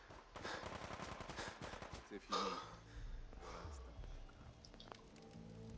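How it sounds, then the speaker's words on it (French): Rapid bursts of Fallout 4 gunfire rattle in quick succession, sharp cracks fading into scattered shots, mixed with talk and background noise. "ah, y a encore des coups de feu."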